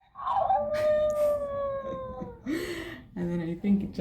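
A WowWee Dog-E robotic toy dog gives a drawn-out electronic howl, then a few short yips close by, with a person talking softly over it.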